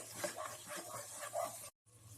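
A spoon stirs red and green chili sauces, tomato ketchup and vinegar together in a pan, making soft repeated scraping and wet swishing strokes with a light sizzle, quiet and close, with a brief dropout near the end.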